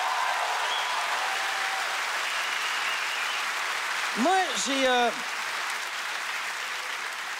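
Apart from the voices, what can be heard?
audience applause for Comedia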